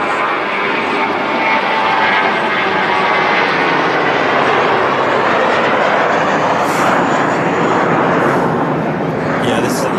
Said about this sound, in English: this is a lovely flight down from Malaga on a Dreamliner